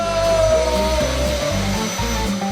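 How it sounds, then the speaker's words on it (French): A hair dryer blows as a steady, loud whirring drone, its motor hum layered with a pulsing low throb that stays continuous for the whole stretch, with no talking over it. "Je vais t'aider à sécher. J'ai un sèche-cheveux."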